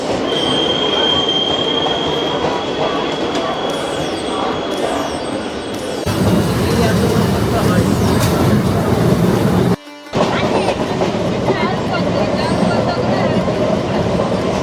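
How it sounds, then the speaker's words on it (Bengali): A Howrah–Digha local train pulls out of platform 1 at Panskura Junction, loud and close, with rumbling wheels, a high squeal, clattering over joints and a brief dropout, while voices murmur on the platform. "1 নম্বর প্ল্যাটফর্ম থেকে ট্রেন আমাদের ছেড়ে বেরিয়ে যাচ্ছে"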